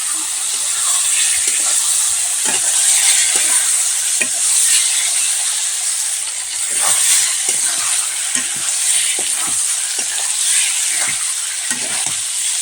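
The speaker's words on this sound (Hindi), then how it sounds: "मसाला हम यहाँ पर पीस करके रख लिए हैं। अब अच्छे से इसको हम भून लेते हैं" A freshly ground masala paste roasts in a hot pan with a loud, continuous sizzle and hiss, broken by repeated scrapes and knocks of stirring.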